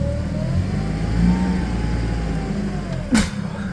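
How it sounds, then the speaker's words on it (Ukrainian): A 2018 Toyota 02-8FGF25 gas forklift engine revs steadily and close by as the mast lifts at idle, a smooth mid-pitched drone holding throughout with a brief sharper burst near the end. "На холостих обертах піднімає, можна швидше підняти, якщо надати надати газу"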